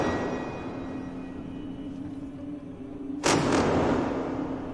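Gunfire in the survival horror game Alien: Isolation: a single loud, sharp blast cuts through a steady low rumbling ambience, then trails off into a lingering roar.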